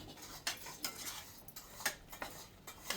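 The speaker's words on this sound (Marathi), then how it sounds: "आणि आता हा रवा मिक्स करून घ्यायचा आहे." Semolina stirred and mixed in a pan after water is added to the tempering, a spoon scraping and tapping against metal in quick irregular strokes, close and quiet.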